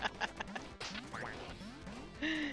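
Cartoonish duck quacks from the video game Duck Game, several short nasal calls amid hits, crashes and pitch-sliding effects, fairly faint and busy.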